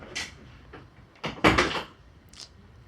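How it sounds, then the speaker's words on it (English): An indoor door thumps and rattles as someone pushes it shut. A short knock comes first and a louder cluster of bangs follows, close by in a quiet room. "Shut the door all the way, please."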